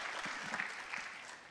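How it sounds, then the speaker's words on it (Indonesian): Applause from a church congregation during a worship service, a brief steady patter of many hands held at an even, moderate level with no talk over it. "berikan tepuk tangan buat mereka bertiga"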